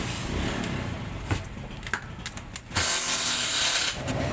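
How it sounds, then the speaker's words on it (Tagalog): Socket wrench working bolts on the clutch side cover of a Honda TMX 155 motorcycle, giving scattered metallic clicks and clanks close by, then a steadier ratcheting rasp near the end, with no talking. "So, socket ang gagamitin natin."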